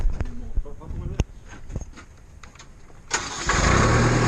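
Schwing BPA500 concrete pump engine starting up and then running loud and steady near by, with broadband roar taking over in the last second after quieter clatter, with people talking in the background earlier.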